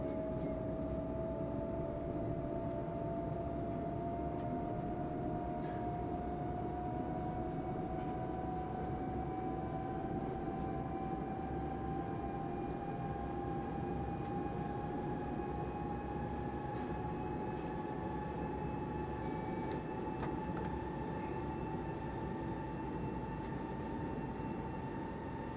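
A FlixTrain locomotive rolls through Berlin in Train Simulator Classic, a steady loud rumble of wheels on rail with a continuous engine drone and rising electric whine, joined by a couple of brief hiss bursts.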